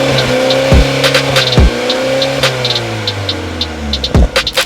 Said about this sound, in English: it's gonna produce a louder and deeper exhaust tone